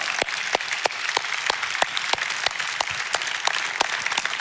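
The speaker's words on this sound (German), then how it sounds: "gebt euch und all euren wunderbaren Leiterinnen und Leitern einen maximalen Applaus heute Morgen" A church congregation at ICF Zürich claps loudly and steadily, with a few sharp louder claps punctuating the sustained applause throughout.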